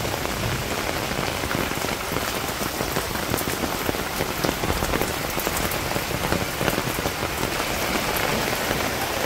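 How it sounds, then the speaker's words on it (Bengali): Steady rain falls on surfaces in a village, a dense, continuous patter of drops close by, loud and even throughout with no voices. "কত সুন্দর বৃষ্টি হয়েছে।"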